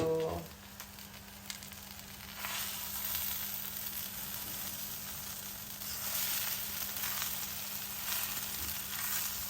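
Brinjal fry with a special spiced masala sizzles in a pan: a faint, steady frying hiss that swells slightly now and then, with no talk.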